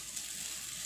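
Two spoonfuls of margarine melt in a heated pan, giving a steady, soft hiss and crackle of frying that continues evenly throughout, with no talking.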